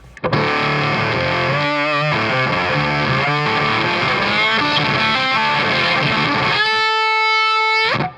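Electric guitar played through a Reeves Electro pedal set for a thick, Facet VX-style distortion, loud and continuous with gated chugs and fuzzy sustained notes, ending on a long ringing held chord.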